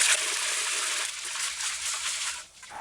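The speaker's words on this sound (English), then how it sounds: "Now, use your fingers. Wash the kidney beans clean." Kidney beans being washed by hand in a pot of water, with continuous close trickling and light splashing as fingers stir the beans, steady throughout and easing off near the end.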